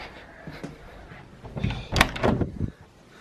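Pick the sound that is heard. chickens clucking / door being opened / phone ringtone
door being opened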